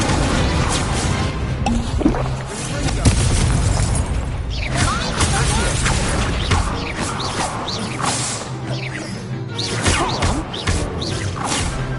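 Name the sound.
Incendio fire spell from Hogwarts Legacy video game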